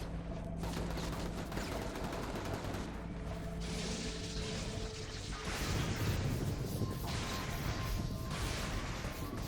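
Gunfire rattles in the superhero game Infamous as dense, continuous bursts of shots and mechanical clatter, steady and loud throughout with no voices.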